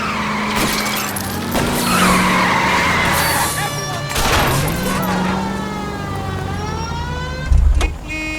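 Tyres screech and skid through a car chase in L.A. Noire, with long squeals rising and falling, a siren wailing alongside, and a brief heavy thump near the end.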